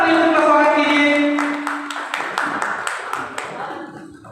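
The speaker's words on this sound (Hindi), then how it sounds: "जोरदार तालियों से स्वागत कीजिए।" Audience applause at the Kanshi Sandesh music awards ceremony, rising from a dense wash of clapping under sustained musical tones, then thinning into scattered claps that continue to the end.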